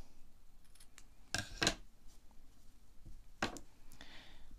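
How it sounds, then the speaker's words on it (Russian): Scissors snip through crochet yarn after the final chain of a Santa hat, a few quiet, close crisp cuts in two pairs against a soft background. "делаем одну воздушную и обрезаем ниточку"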